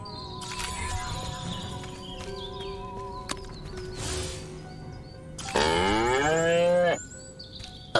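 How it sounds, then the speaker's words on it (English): A cow moos loudly and alone in the Destroy All Humans remake, a long drawn-out bellow near the end, with clanks and farmyard ambience around it. "Again with the moo?"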